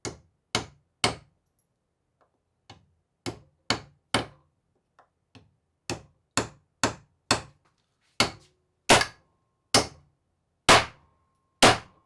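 Hammer blows driving 4-inch nails into a wooden table, about twenty sharp, loud, close strikes in uneven bursts with short pauses between them.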